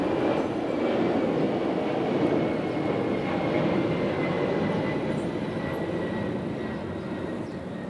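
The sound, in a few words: aircraft flying overhead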